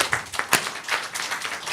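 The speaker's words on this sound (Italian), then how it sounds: "vi prego di applaudirla" An audience at a theatre season presentation in the Veneto applauds actress Giuliana Dessio, with fairly close hand claps that overlap into a steady patter and no voices over them.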